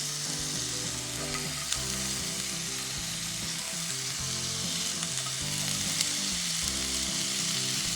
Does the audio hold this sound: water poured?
no